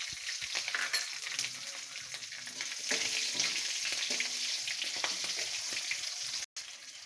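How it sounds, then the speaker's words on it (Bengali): Ginger and three slit green chillies frying in hot oil in a pan for mustard fish curry, a steady close sizzle with light stirring scrapes throughout and a brief dropout near the end. "আদাটা একটু ভাজা হয়ে গেছে, এখন দিয়ে দেবো এই যে 3টে কাঁচা লঙ্কা চিড়ে রেখেছিলাম"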